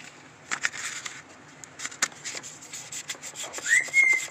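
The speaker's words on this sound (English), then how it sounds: "So it's time to get to wet sanding." Fine 3000-grit wet sandpaper is rubbed over the painted surface of an E-Flite Carbon Z Cessna 150 model airplane, giving soft, irregular scrubbing strokes close up and quiet, with a faint whistle near the end.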